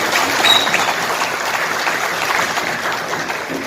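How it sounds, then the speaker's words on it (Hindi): Dense, sustained applause from a large audience at an Aurangabad community felicitation gathering, steady and loud throughout with no speech over it. "जोरदार तालियां"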